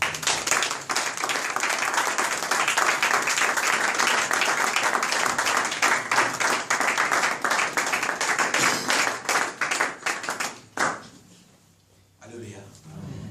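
A church congregation claps in a dense, sustained burst of applause that fades out near the end, with voices mixed in underneath.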